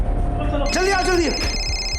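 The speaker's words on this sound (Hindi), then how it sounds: "ये फोन के आवाज आ रही कहीं से।" A telephone rings indoors in a busy room, a short burst of tonal ringing rising over background chatter and movement, with people talking nearby.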